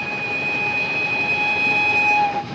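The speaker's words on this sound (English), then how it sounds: "Just listen to that whistle." A steam train whistle blows a long, steady, shrill tone over the rumble of the moving train, sounding close and loud before cutting off near the end.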